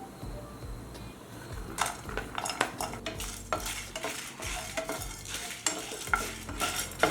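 Dry red chillies and chana dal roast in oil in a pan for tondekayi palya, making a continuous soft sizzle under repeated clattering stirs and scrapes of a spoon against metal, with no voice.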